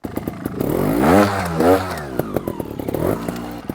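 A trials motorcycle climbing a double step revs hard twice in sharp rising bursts, then settles to a choppy idle with clattering mechanical ticks, loud and close.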